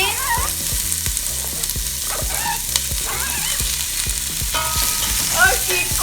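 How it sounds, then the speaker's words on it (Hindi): Bell peppers of three kinds go into a pan of semi-transparent frying onions, giving a loud, steady sizzle with rhythmic stirring scrapes throughout. "अब हम इसमें तीनों काइंड की शिमला मिर्च डाल देंगे"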